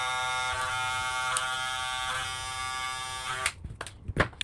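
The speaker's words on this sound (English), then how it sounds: "Now take your trimmer" Electric hair trimmer running close by with a steady, even buzz for about three and a half seconds before switching off, followed by a few soft handling clicks.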